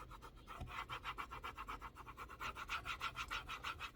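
A Cricut scraper rubbed back and forth over craft material in quick, even rhythmic strokes, a soft close scratching swish repeated many times, faint and alone.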